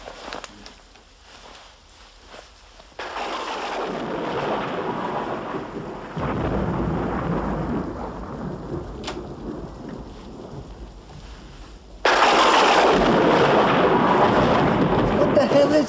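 Thunderstorm with heavy rain, rolling thunder swelling in loud waves over a steady downpour, growing strongest toward the end.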